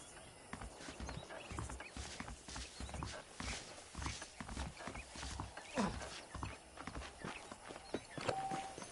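Horse hooves clip-clop steadily at a walking pace in Red Dead Redemption, with a brief whinny near the end, over soft background ambience.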